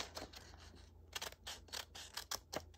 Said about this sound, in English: I just cut it with the scissors at the end, that excess.